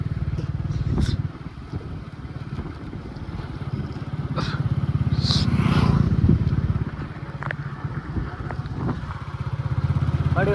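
A petrol motorcycle engine idles and revs unevenly as a learner works the clutch and gears, a steady low drone rising and dipping, with people talking throughout.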